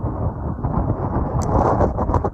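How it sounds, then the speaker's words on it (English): Strong outdoor wind buffeting a microphone beside a 2017 Peterbilt 389 semi truck, a loud, continuous low rumble and roar that surges in gusts, with faint high clicks near the end. "I apologize, it's super windy today."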